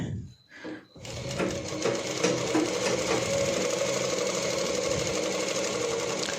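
A sewing machine stitches lehenga panels for a Rajputi suit, running steadily and close with a fast, even mechanical chatter after a brief start-up, continuous and loud to the end.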